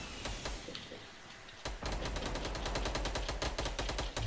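SCAR assault rifle fire in a Fortnite squads match: a rapid string of sharp, loud gunshots, sparse at first and then a dense, steady burst of automatic fire.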